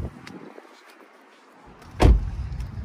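Someone steps out of a Subaru Outback or Legacy, with quiet rustling before a single solid car-door thump near the end, close and fairly loud.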